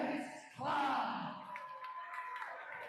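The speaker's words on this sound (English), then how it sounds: "big round of applause for Nate Clark" Crowd at a junior basketball showcase slam dunk contest swells into loud cheering and whooping for a contestant, a broad roar that holds and then settles under an announcer's voice.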